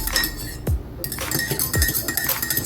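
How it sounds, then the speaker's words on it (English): A spoon stirring a cinnamon hot beverage in a cup, giving bright clinks against the sides, with two sharper knocks among softer ringing taps, close and fairly quiet. "Stir evenly."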